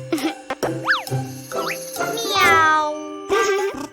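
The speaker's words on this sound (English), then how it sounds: "Meow." A cartoon cat meows amid bouncy springy effects and chiming tones, with a sliding whistle-like call and a short vocal meow over light background music.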